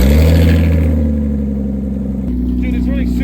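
A Lexus engine runs loud and close with a steady, lean-sounding idle and a slight shift in pitch partway through, while people talk over it.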